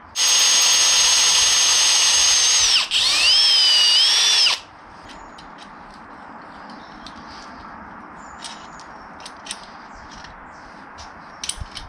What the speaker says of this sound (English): we're going to drill that out, fit a helicoil